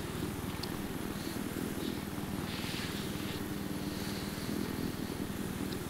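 Continuous low rotor thrum of a Little Bird helicopter in Battlefield 3, steady and moderately faint, with a soft hiss and scattered light clicks, no voices.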